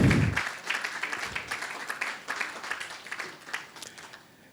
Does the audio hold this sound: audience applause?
yes